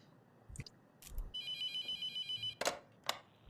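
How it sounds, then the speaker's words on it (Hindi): A telephone rings in the horror game The Mortuary Assistant, a bright electronic ringtone pulsing in a quick even series of about ten bursts, framed by a few sharp clicks and thuds, with no talking. "डीमन फोन कर रहा है मुझे।"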